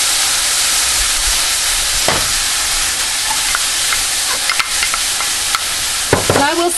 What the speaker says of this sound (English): I have about 2 teaspoons of olive oil heating in this saucepan. And I'm just going to add my vegetables in